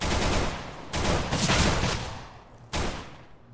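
Video-game pistol fire, a few loud, close broadband shots and short bursts with a decaying tail between them, no voices.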